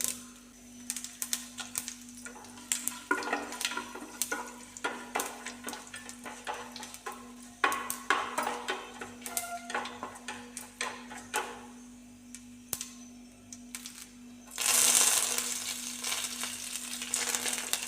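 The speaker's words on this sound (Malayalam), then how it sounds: "കടുക് പൊട്ടി വരുന്നുണ്ട്. അപ്പോൾ നമുക്ക് ഇതിലേക്ക് 2 വറ്റൽമുളകും കൂടി ഇടാം." Mustard seeds and two dried red chillies fry in hot oil, giving rapid irregular popping and crackling over a low sizzle, with a louder hissing surge near the end.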